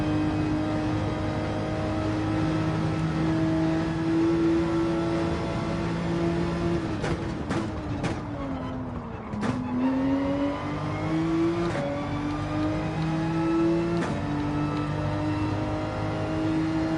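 A heavy BMW race car in Gran Turismo drones loudly and continuously, its engine note climbing and then dropping sharply several times as gears change and the car brakes, with no voices over it.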